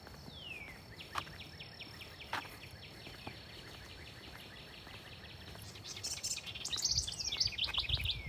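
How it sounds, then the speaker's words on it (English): Wild birds sing in the open at Gettysburg Battlefield's East Cavalry Field, with repeated high chirping trills and calls over a faint insect buzz, growing busier and louder toward the end, with no talk. "the birds are definitely vocal."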